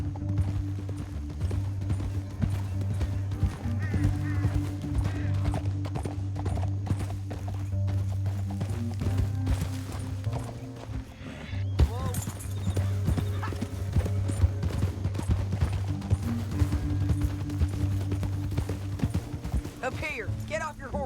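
Horses gallop in a western video game with steady rapid clip-clop hoofbeats and occasional whinnies, carrying on under music and game dialogue throughout.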